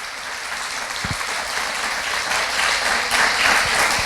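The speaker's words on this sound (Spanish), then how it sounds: "Demos un aplauso a nuestro Señor." A church congregation applauds in praise of the Lord, a dense, steady wash of clapping that holds for about four seconds and swells slightly toward the end.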